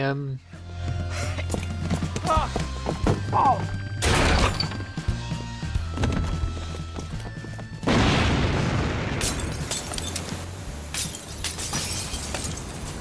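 Heavy gunfire and impacts from the action video game WET as people are shot, loud dense bursts and booms with musical tones, ending in a long harsh noisy roar, with a voice talking over it.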